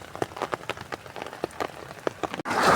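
Hail pellets pelt an umbrella outdoors in Butwal, a close, irregular patter of sharp taps that swells into a denser, louder rush at the end.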